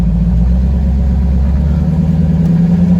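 Big V8 in a 1962 Austin Healey tribute build rumbling as the car drives slowly around a building, a steady deep loud burble with a smooth even throb.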